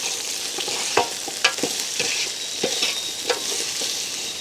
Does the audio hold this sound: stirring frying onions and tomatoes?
yes